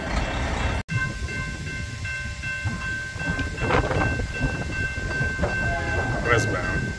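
A westbound BNSF freight train passes on the Peoria Sub at 78th Street in Shawnee, Kansas, a heavy continuous rumble of wheels and cars with faint steady tonal whines, briefly cut out near the start.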